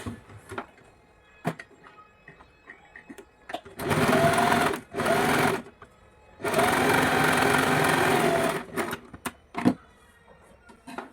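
An electric sewing machine stitches a plain blouse, running in several bursts: a couple of short runs, then one longer steady whir, with handling clicks and cloth rustles in the pauses between.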